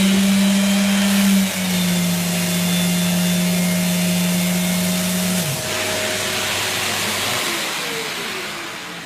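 A Festool RTS 400 sander hooked to a CTL MIDI dust extractor runs loudly, a steady motor hum and airy rush with a tonal whine that shifts in pitch partway through as the machines change speed, then begins to wind down.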